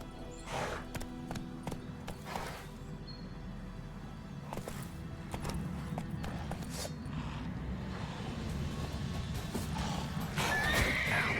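Roach, Geralt's horse in The Witcher 3: Wild Hunt, whinnies and neighs while hooves clip-clop steadily underneath, with a louder burst near the end.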